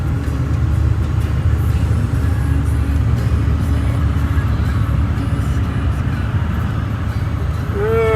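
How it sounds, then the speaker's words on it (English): Road vehicle engine running loud and close with a dense, steady low rumble and a slight stutter from a suspected misfire, bad injector or bad spark plug; a voice briefly speaks near the end. "She's got a little bit of a stutter. I think that's probably got a bad injector or a bad spark plug, or it's a misfire"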